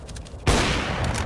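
A burst of gunfire rings out in a competitive first-person shooter match, a sudden loud crack that then holds as a dense, rattling wash for the last part of the clip.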